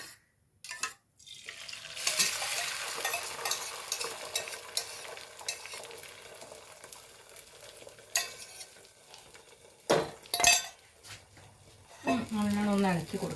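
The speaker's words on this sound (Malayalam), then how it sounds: "ഞാനൊരു പാൻ വെക്കട്ടെ മുട്ട ഒന്ന് ഞാൻ ഇതിലേക്ക് ഒഴിച്ചു കൊടുക്കണ്ടേ" Beaten egg poured into a hot pan sizzles and fries steadily, with a few clinks of a utensil against the pan and a short burst of talk near the end.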